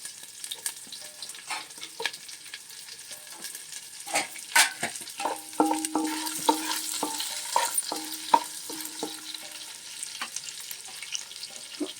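Onion pieces drop into hot oil in a pan for prawn biryani and start frying, with a steady sizzle and bursts of crackling that peak midway, plus occasional scrapes of a spoon stirring close by.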